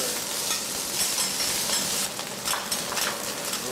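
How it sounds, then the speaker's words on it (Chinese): Vegetarian shark fin with osmanthus is stir-fried on a hot iron plate for a traditional Chaozhou dish, giving a continuous close sizzle broken by firm, repeated spatula scrapes across the metal. "这道传统潮菜用铁板做，最难的就是把握火候以及铲子的操控。"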